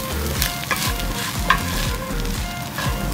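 Egg fried rice is tossed and stirred in a hot pan, loud close sizzling broken by quick scrapes and clatters of the utensil against the pan in a busy, uneven rhythm.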